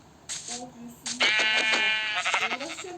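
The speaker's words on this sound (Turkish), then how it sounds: "iki koyun iç içe girmiş" Minecraft sheep give several short, buzzy video-game bleats, one brief call followed by a longer wavering one and a couple more trailing bleats, close and clear.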